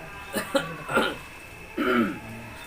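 A few short throat-clearing coughs, close and moderately loud, separated by brief pauses.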